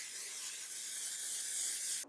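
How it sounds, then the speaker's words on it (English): A can of non-stick cooking spray hisses steadily into a baking dish, a continuous close, loud aerosol spray that runs for about two seconds and then cuts off abruptly. "Non-stick cooking spray."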